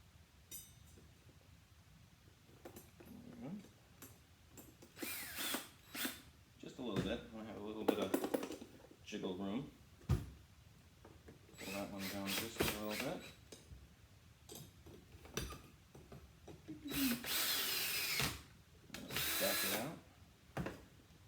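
A power drill drives screws to mount a skate blade's heel onto a boot, buzzing in several short bursts of a few seconds each, close and fairly loud, with quiet gaps and handling clatter between them.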